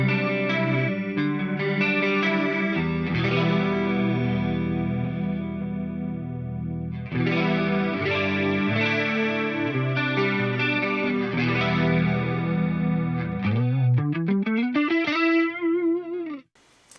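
Electric guitar played through an Eventide H9 modulation effect set to a sine LFO, chords and notes swirling with a smooth wavering shimmer, two phrases separated by a brief pause, ending on a rising slide, no talking.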